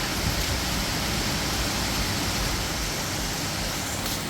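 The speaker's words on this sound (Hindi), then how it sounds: "सिलचर में धमाल बारिश हो रही है।" Heavy rain pours down in Silchar in a steady, dense hiss with no breaks, loud and close throughout, with no voices.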